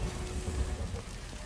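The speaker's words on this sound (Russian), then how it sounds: "Ой, дождик." Rain in the video game Remember Me, a steady hiss of falling water spread evenly across the scene, with no voices over it.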